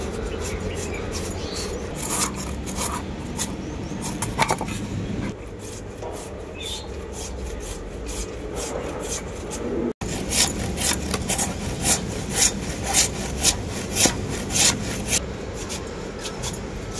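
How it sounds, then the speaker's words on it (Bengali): Peeled potatoes rubbed against a metal grater, a steady rasping scrape with repeated strokes, close and fairly loud, continuing alone without talk. "এই গ্রেটার দিয়ে আলুগুলো আমি গ্রেট করে নেব।"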